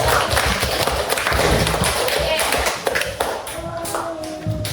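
A classroom of students claps during a lesson on folk poetry, a dense burst of hand clapping for about three seconds that then tapers off, with a teacher's voice speaking over and after it.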